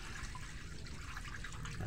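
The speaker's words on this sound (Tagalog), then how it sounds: "atin na po ilalagay yung tubig." Water poured from a pitcher into a cooking pot while preparing a madre cacao (kakawati) pesticide brew, a continuous splashing stream heard up close and fairly quiet from start to finish.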